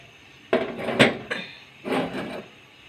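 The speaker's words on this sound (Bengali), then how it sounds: "এবার একটু চুলার উপর বসাই দেব।" A pot is set down on a stove: a few hard clunks and knocks with brief scraping, spaced over a couple of seconds in a quiet room.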